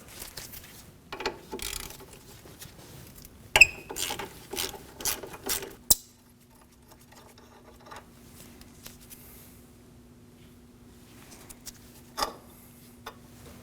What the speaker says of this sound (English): Remove the bolt holding the hose to the strut with a 12mm.